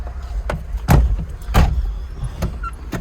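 Car door thunks and interior bumps inside a vehicle, two heavier slams close by among lighter knocks and clicks over a low hum.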